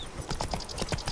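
Hooves of Roach, a horse in The Witcher 3: Blood and Wine, clip-clop in a brisk, steady rhythm of sharp, close knocks against a faint background hum.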